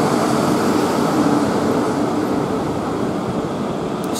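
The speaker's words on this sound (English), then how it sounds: "There's another train coming in." A South Western Railway Class 450 electric train pulls into Brookwood station, a loud steady rumble close by that holds constant throughout, with no voices.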